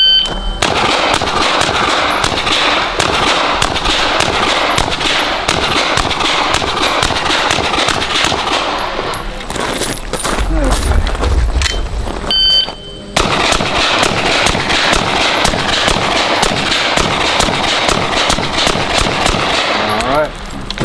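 Rapid, loud outdoor gunfire from identical 11.5-inch BCM AR-15 rifles fitted with Surefire RC2 and RC3 suppressors, with sharp shots in quick strings and a brief pause midway.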